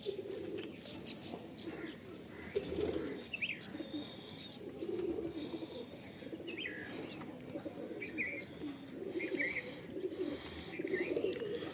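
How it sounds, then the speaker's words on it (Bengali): A pair of pigeons is released at a loft and coos in soft repeated calls. Chirps and bursts of wing flapping come through a continuous moderate background hum. "এই এক পেয়ার মালবাই ছেড়ে দিলাম।"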